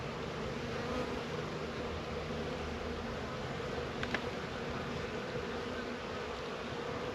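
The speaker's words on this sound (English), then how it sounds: "I'm going to push all those bees to that side" Honey bees drone in a continuous, even buzz from an open hive during spring beekeeping in Michigan. The sound is close and fills the whole stretch, with one small sharp tick partway through.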